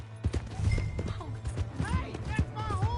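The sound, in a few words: horse galloping away in Red Dead Redemption 2 video game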